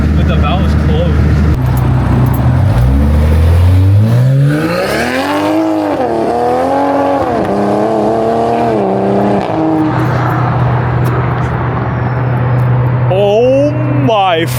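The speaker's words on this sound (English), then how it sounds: "The turbo freaking spool in the exhaust is crazy." A BMW fitted with an SSR downpipe revs hard, its loud exhaust note climbing and falling with rising turbo spool whine, close up, while people talk excitedly over it.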